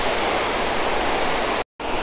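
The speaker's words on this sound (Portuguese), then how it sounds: "olha essa queda d'água batendo aquelas pedras e formando essas nuvens aqui" A waterfall in Analândia, São Paulo, crashes onto rocks and throws up clouds of spray, making a loud, dense, continuous roar that cuts out for a split second near the end before resuming.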